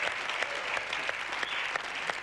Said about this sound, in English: Round of applause for Boz.